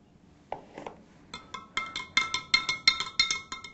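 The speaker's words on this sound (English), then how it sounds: "Give it a good mix." A metal spoon clinks rapidly and rhythmically against a glass or container while stirring sugar into water, a steady run of bright taps close by.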